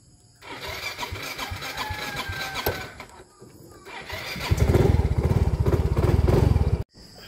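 A motorcycle engine starts and idles, then revs louder with a heavy, throbbing rumble before cutting off abruptly near the end.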